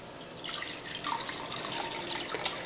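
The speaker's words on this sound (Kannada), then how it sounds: "ಈಗ 1 ಬೌಲ್ನಷ್ಟು ನೀರು ಹಾಕ್ತೀನಿ ರೀ." Water poured from a bowl onto rice for Kannada-style rice bath, a steady close splashing and trickling stream lasting the whole clip with no talk over it.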